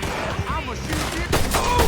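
Gunfire in the video game Red Dead Redemption 2: a few sharp, loud shots crack out in quick succession near the end, after a stretch of speech and game noise.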